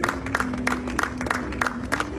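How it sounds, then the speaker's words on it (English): Dozens of nurses and staff walking out of a closing hospital on a Saturday morning, met by a crowd clapping in a steady patter of claps with scattered louder peaks. "With thunderous applause"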